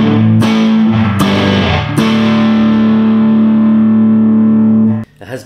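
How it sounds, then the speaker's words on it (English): An Ampeg Burns Split Sound electric guitar with Wild Dog electronics, played through distortion: three struck chords ring out loud and sustained before cutting off near the end. "This is an Ampeg Burns split sound with Wild Dog."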